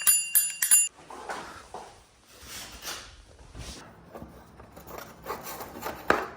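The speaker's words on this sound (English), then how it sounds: "Twist bell." A twist bell on an electric snow scooter rings in several quick bright dings, close by, then fades into soft rubbing and handling noises.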